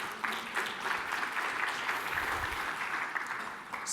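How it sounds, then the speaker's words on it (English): Sustained, steady applause from a conference audience for a product team, a dense wash of clapping that holds evenly throughout with no voices on top. "A round of applause for all the FullStory team."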